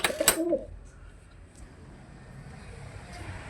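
Male pigeon cooing near a loft, a brief soft coo early on, then quiet background.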